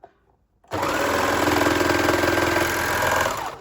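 An overlocker sews the shoulder seams of a sports bra: a quiet pause, then a loud, steady, close whirring run of about three seconds that tapers off at the end.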